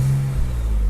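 A BMW Z4 roadster engine idles steadily, a low rumble with a brief higher hum at the start that settles into a smooth drone, heard up close.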